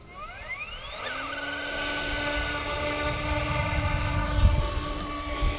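An Eachine E200 RC helicopter spooling up for takeoff, its motors whining upward in pitch over the first second before settling into a steady, close, high-pitched drone with a faint rumble beneath.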